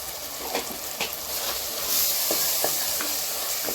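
Masala with turmeric powder sautéing in a pan for a goat intestine boti curry, a continuous close sizzle broken by periodic stirring scrapes.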